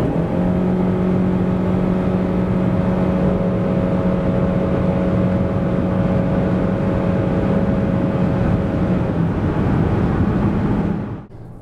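A 2025 Ford Kuga ST-Line 2.5 hybrid accelerates from 90 to 140 km/h, a loud, steady engine and road drone with a rising whir that drops away at the end.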